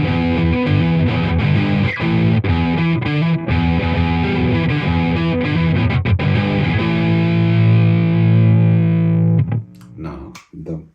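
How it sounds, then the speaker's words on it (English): An overdriven electric guitar, a Squier Classic Vibe '60s Telecaster on its neck pickup, plays a warm, distorted riff with sustained chords, then rings out and fades near the end. "Overdrive tones starting with neck pickup"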